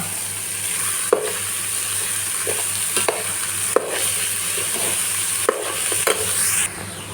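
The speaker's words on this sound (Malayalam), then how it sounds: "ഇതിലേക്ക് നമ്മൾ ചോപ്പ് ചെയ്ത് വെച്ച നമ്മുടെ സവോള ഇട്ട് കൊടുത്ത് നന്നായി ഒന്ന് വഴറ്റിയെടുക്കാം" Chopped onions sauté in hot oil in a pan for biryani, a steady close sizzle running throughout with occasional sharp scrapes and clicks of a spoon stirring against the pan.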